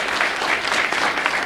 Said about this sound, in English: Another big round of applause for Rich.